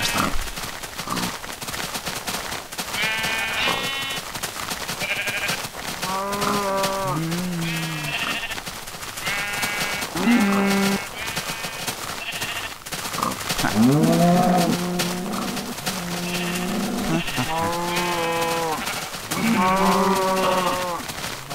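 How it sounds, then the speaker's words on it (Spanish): Sheep bleat and cows moo in Minecraft: a herd of blocky farm animals making a long, overlapping series of wavering bleats and drawn-out moos, near and steady, with no talk. "Un montón de ovejas y vacas."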